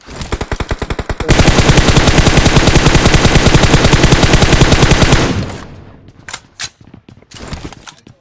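Gunfire in the PUBG Mobile battle-royale game: a loud rapid automatic burst running continuously for several seconds after a few opening shots, then sporadic single shots at a distance.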